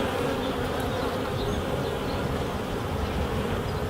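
Honey bees, carrying loads of pollen, buzz steadily around a hive in the UK in spring, a dense, continuous drone of many insects close by.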